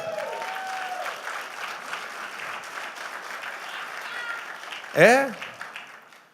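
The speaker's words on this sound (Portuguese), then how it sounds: "Vamos dar um aplauso a Jesus?" A church congregation applauds together for several seconds, a steady broadband wash of clapping, before a voice briefly breaks in near the end.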